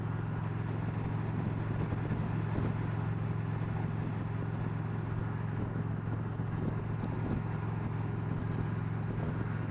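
A 2025 Indian Pursuit 112 motorcycle rides over a broken road, giving a steady low engine drone blended with wind rush. The sound is continuous and even throughout, with no talking.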